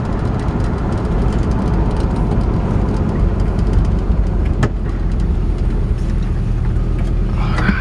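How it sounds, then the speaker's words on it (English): A 1972 Oldsmobile Cutlass 442 cruises down the road, a steady low rumble of engine and road noise filling the cabin at constant level, with one brief sharp tick midway and no talking. "Man, the car drives great."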